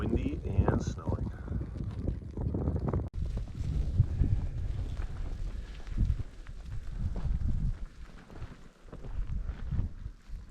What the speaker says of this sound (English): The sun is gone and it is windy and snowing.